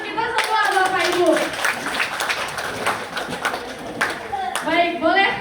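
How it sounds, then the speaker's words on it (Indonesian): A room of teachers at a school workshop claps together, bursts of sharp hand claps rising and falling, with voices and a few children's sounds chattering over them. "tepuk tangan untuk kita semua Bapak Ibu"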